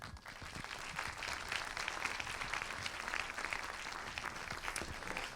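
A crowd at the opening ceremony of a Saint-Jean-de-Luz international film festival applauds the festival's artistic director, continuous even clapping heard at a moderate distance with no breaks.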